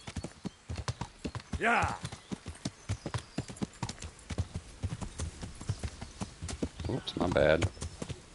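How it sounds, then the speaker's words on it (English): Rhythmic horse hooves clip-clop steadily throughout a ride in the medieval video game Kingdom Come: Deliverance, with a couple of brief whinnies and someone talking casually over the hoofbeats. "It's good to see you actually riding your horse"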